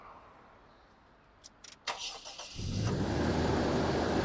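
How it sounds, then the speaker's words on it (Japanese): A car engine cranks with a few sharp clicks and stutters, then catches and settles into a steady idle that gets louder and holds to the end, recorded close with no talking. "ちょっとエンジン、じゃあかけますんで"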